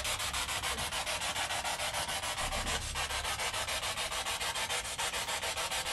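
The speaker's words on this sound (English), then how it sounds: "So we thought we'd get the spirit box out. It's a bit of a louder device" Harsh rhythmic static from a spirit box sweeping in rapid pulses inside a cottage at Guildford Gaol, Perth, a loud scratchy buzzing that chops steadily like a radio scanning through stations.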